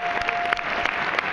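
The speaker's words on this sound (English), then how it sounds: "Nice round of applause for all of our teams." Audience applause for competing FDNY EMS teams at an evening event, a brief burst of scattered clapping at moderate level.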